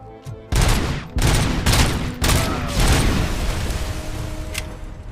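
Heavy handgun gunfire in the shooter game Robocop: Rogue City, a series of loud separate booming shots spaced about a second apart, each with a short ringing tail, close and without talk.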